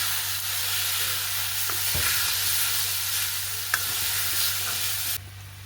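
Fish flesh with the bones removed, stirred into a mixture sautéing steadily in a pan, giving a continuous broadband sizzle with a few light scraping stirs, close and alone before it cuts off near the end.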